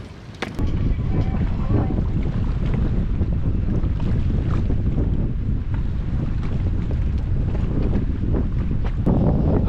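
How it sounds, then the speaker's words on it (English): Strong wind of about 20 mph at Lake Shelbyville buffets the microphone in a constant low roar, with water splashing faintly underneath and no voices. "The wind's blowing like 20 miles an hour."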